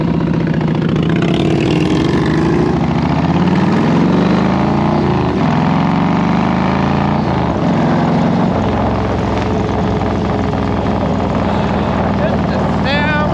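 Idling 1999 Yamaha Road Star 1600 motorcycle with a rough-running engine, its exhaust pipe putting out a loud, steady low rumble that wavers unevenly throughout, close by with voices talking over it.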